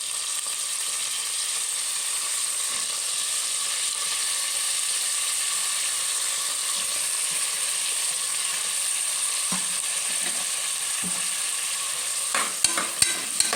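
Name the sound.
onion and brinjal frying in oil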